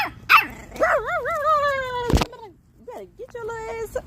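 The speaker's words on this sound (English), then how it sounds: "Who you barking at?" A small Yorkie lets out a burst of sharp, high yips and whiny, wavering barks close to the microphone, broken by brief pauses, with someone talking around it.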